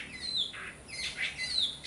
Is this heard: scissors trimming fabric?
no